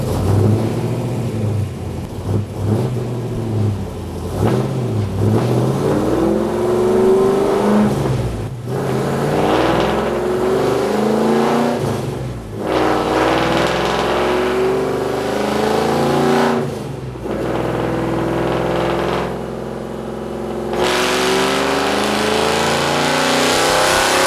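A car engine with an X-pipe exhaust revs hard on a dyno, a loud continuous roar rising and falling through repeated pulls, with brief drops between runs.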